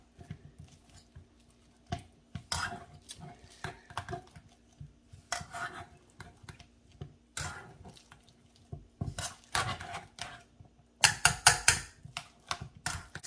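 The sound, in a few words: mashing avocados for guacamole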